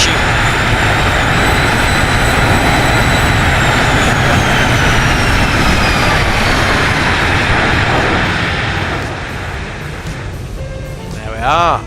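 Boeing 737 jet engines roar loudly with thrust reversers deployed in the X-Plane 12 simulator, a sustained broadband rush with a whining tone that slowly falls away and fades near the end.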